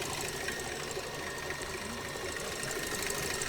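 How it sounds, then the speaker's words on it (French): Electric mixer whipping egg whites at high speed for a strawberry tiramisu at a fair cooking demonstration, a steady dense whirring hum that holds constant and loud throughout with no talking. "Donc là, on va chercher à battre des blancs d'œufs pas trop fermes, d'accord?"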